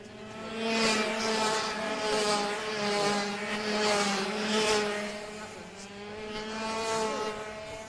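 Senior X30 racing karts lap a circuit during a time trial in the IAME Series Asia. Their high, buzzing engines swell and fade in repeated waves as they pass, fairly loud with no talk over them.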